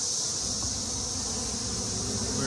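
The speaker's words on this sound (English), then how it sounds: "let the nurse bees crawl back up in here" Steady dense hum of honeybees swarming close at a hive entrance fitted with a queen excluder, continuous and fairly loud with no talk.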